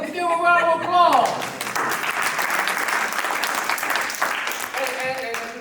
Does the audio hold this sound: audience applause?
yes